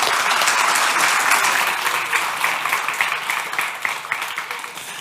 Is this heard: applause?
yes